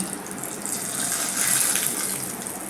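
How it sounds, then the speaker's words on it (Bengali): Liquid poured over kabuli chickpea paste for a rohu fish gravy, a steady close gush of water lasting a few seconds with no talk. "এইটা আমি এই কাবলি ছোলার এইটার ওপর ঢেলে দিচ্ছি"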